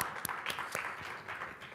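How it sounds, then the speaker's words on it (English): Faint, sparse applause at a student election debate, a few rhythmic claps over a soft crowd murmur, distant and thin. "Please give our candidates a big round of applause."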